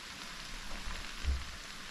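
Okra frying in a pan alongside salt fish, a soft continuous sizzle and crackle with faint low bumps, quiet and steady throughout.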